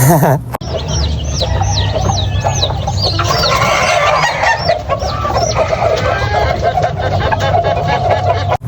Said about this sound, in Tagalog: sinugod naman ako ng inahin